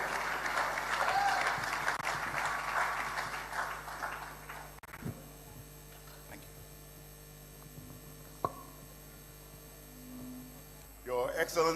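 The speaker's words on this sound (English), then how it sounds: "A round of applause for Doc." Applause from an audience welcoming Dr. Ebu Sakara Foster to the podium at an official launch event, a dense steady clapping for about five seconds that then falls away into a quiet room with mains hum.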